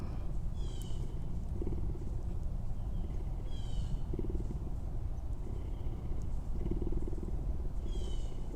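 Low, steady rumbling purr from a big cat at a rescue sanctuary, quiet and continuous with rhythmic pulses, while faint high chirps come and go in the background; no voices.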